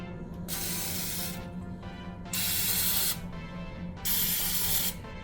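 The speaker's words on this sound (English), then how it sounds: "I'm gonna spray the rest with Pam." Pam cooking spray is sprayed onto a muffin tin in three separate hissing bursts, each about a second long and evenly spaced, close and clear against a quiet room with no talking.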